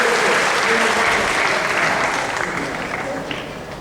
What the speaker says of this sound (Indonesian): tepuk tangan kepada UM kita